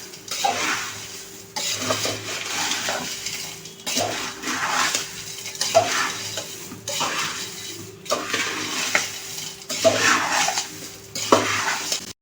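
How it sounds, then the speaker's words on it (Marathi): Sugar is tossed through maize poha chivda in a pan, producing rhythmic rustling, scraping sweeps that come in bursts every couple of seconds, with light metallic clinks of the spoon, close by and without talk. "आता साखर व्यवस्थित अशी मिक्स करून घ्या पूर्ण चिवड्याला"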